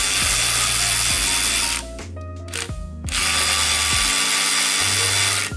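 Power tools and ratchets working loose the oil pan bolts on a Mazda RX7, a loud continuous mechanical whir with repeated ratcheting clicks, briefly dipping midway before resuming, close and steady.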